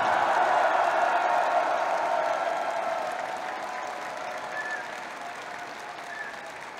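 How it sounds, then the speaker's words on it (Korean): A large crowd applauds and cheers at a Korean political party's third-anniversary rally, a broad roar of clapping and voices that starts loud and slowly tapers off. "그럼 함성과 박수를 부탁드리겠습니다."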